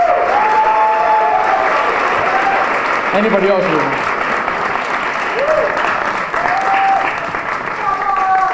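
An inauguration-ceremony audience for the City of Lawrence applauds outgoing city councilors with a steady, full wash of clapping throughout, while a speaker's voice talks over it on and off.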